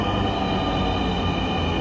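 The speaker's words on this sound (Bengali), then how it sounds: "মেট্রো রেল চলে আসছে" A metro train arrives at a station, a loud, steady rumble with a droning mechanical hum that fills the short moment without pause.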